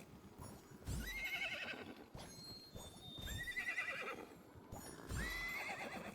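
Horse in the video game Minecraft Legends giving three loud neighs spaced a couple of seconds apart, each a rising whinny, with soft clip-clopping hooves and ambient game sound between.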